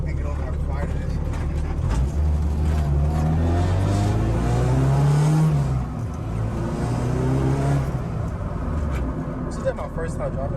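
A car fitted with a new Vibrant exhaust revs loudly and close by, its engine note rising and falling through a couple of pulls, with voices talking underneath.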